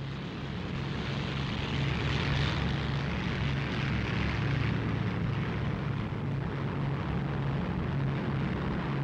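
A World War II reconnaissance aircraft flies overhead, its propeller engine making a steady, loud drone with a low hum that holds evenly throughout, with no voices.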